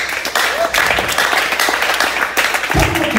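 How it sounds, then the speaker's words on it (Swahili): Church congregation applauding during a sermon, a steady wash of clapping from many hands that runs throughout with slight swells, fairly loud and close with some voices mixed in. "Patia Bwana makofi."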